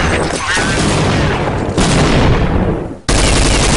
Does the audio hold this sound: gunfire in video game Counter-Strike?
yes